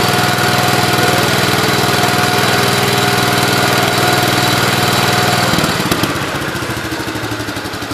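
Swapped engine in a Gravely 8123 garden tractor running steadily with a loud, even putter. Near the end it slows and changes pitch, then settles into a lower, choppier idle. No talking.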